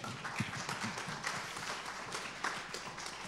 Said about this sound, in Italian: vi inviterei di salutarli con un applauso